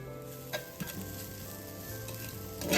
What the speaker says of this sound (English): Saute for a minute.